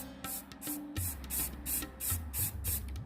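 A spray paint can with a clear, unclogged nozzle fires a series of short, loud hissing bursts close to the mic, about seven sprays in quick succession with brief pauses, over a faint low hum.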